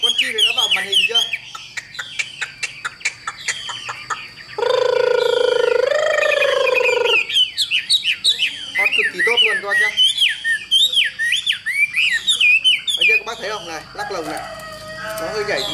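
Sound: hwamei songbird singing in its cage

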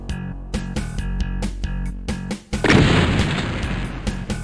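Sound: gunfire in video game Ultimate Doom

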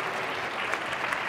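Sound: audience applause at awards ceremony

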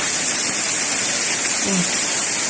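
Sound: rain falling on a grape farm

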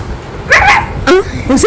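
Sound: child imitating a puppy barking

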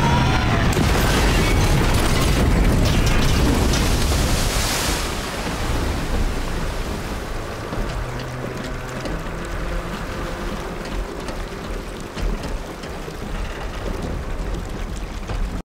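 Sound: plane crash into water sound effect

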